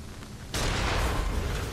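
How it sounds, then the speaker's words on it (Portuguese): A gunshot fired in the action game Nioh bursts in about halfway through with a sudden loud broadband blast. It rings on as a dense, rumbling roar to the end of the clip, with no voices. "Vou dar um tiro nesse cara aí."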